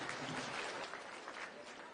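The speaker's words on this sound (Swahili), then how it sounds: "Tumpigie makofi tena tafadhali." An audience at a formal speech event in Turkana claps in a dense, steady burst of applause that fills the whole short moment.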